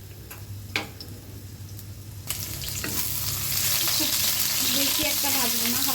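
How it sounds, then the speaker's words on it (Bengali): Cumin and onion frying in a pan: a quiet start with a few clinks, then a sizzle that swells into a loud, steady hiss with crackles, heard up close. "জিরাটা ভেজে নিয়েছি পেঁয়াজটা একটু ভেজে নিব খুবই অল্প পরিমাণে"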